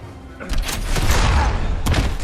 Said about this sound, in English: when you push this red button, you can actually launch these rockets over at Superman there